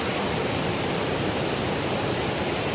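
A stream rushes among large stones in a constant, loud, broadband roar with no pauses and no voices.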